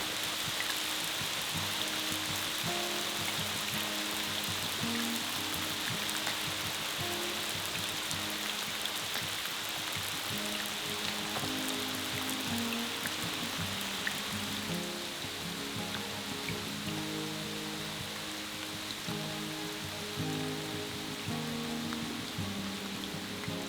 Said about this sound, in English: hear the rain falling through the trees.